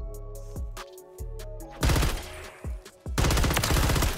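RAM-9 rifle fire in the Modern Warfare 3 video game: sharp, rapid shots crack out singly, then swell into dense automatic bursts, loud and close, with no talking.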